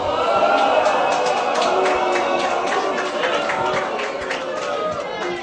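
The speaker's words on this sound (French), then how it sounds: "Sifflements, huées ou applaudissements" Crowd noise at a heated public debate on same-sex marriage in Saint-Etienne, with dense overlapping whistles, shouts and clapping from a large indoor audience, steady and loud throughout.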